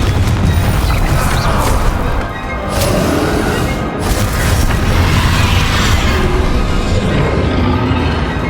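Confringo explosive spell blasts in Hogwarts Legacy: dense, booming detonations roll on continuously, loud and close, with crashing bursts and a brief dip midway before the rumbling resumes.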